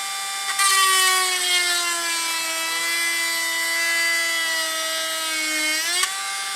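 A Tacklife RTH30 cordless rotary tool drills with a low-quality drill bit, giving a high, steady whine that starts suddenly and drifts slightly lower in pitch under load. It rises just before cutting off abruptly after about five seconds, with no speech.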